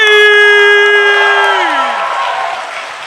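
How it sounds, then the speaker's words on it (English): Audience at a startup pitch event cheering a team: a loud, drawn-out whoop that slides down in pitch rises over crowd cheering and scattered clapping. "So give a big applause for Team 3!"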